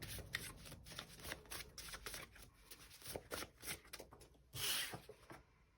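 Tarot cards shuffled by hand, quiet close riffles and slides that come in several short bursts with brief pauses between them and no talk.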